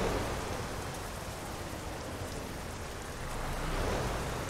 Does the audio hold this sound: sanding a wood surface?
no